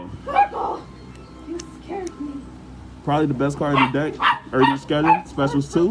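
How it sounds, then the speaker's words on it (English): A pet dog named Coco gives a few short yips and whimpers in the background early on, then someone talks steadily in the foreground. "that's my dog Coco in the background"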